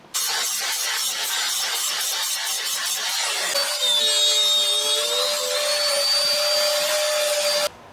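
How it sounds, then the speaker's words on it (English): A router cuts a guitar neck held in a jig, a loud steady high-pitched whine with a rhythmic pulsing start, then a sustained tonal cutting pitch until it stops abruptly. "Let's get this in the jig and get it routed."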